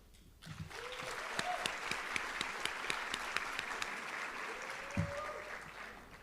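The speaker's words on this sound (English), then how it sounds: "please join me in giving a round of applause to Mrs. Thompson and Mrs. Pepe" Steady round of applause from a crowd at a high school senior awards night, dense clapping with a few sharper claps standing out, filling the room at moderate level.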